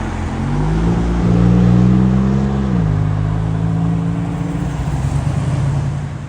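A Maserati MC20 supercar arrives at a prestigious supercar event, its engine droning loud and close with a steady mid-range tone that holds, then drops in pitch partway through before carrying on under a broad wash of road and crowd noise.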